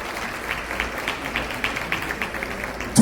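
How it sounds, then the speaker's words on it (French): Applause for dancers at a dance event in Haiti, fairly soft and steady clapping that carries from a distance through a reverberant space, ending in a sudden louder burst. "Mesdames et messieurs, sur vos applaudissements."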